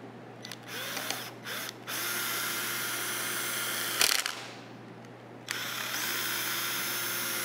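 A power drill with a slightly oversized bit whirs steadily in bursts while boring through a wooden bow riser, stopping briefly and starting again, close by with a constant background hum.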